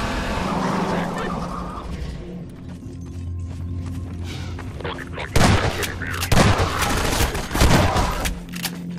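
Shotgun blasts from the Half-Life 2 video game, a few sharp loud bursts in the second half over an ongoing engine-like hum and background game noise.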